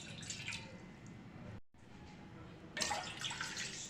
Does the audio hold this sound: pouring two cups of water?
yes